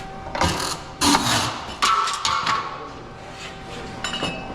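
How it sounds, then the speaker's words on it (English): A metal shear in a racecar workshop cuts a part with several loud, sharp metallic chops and crunches at irregular intervals, with ringing clatter in between. "The shear makes such a nice clean edge."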